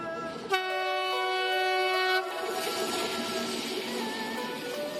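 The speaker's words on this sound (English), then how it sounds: "The young students were elated to be riding on the train to Beijing." A passenger train horn blasts loudly for about two seconds, then the rumble and clatter of the moving train carries on underneath, on the China-Laos Railway.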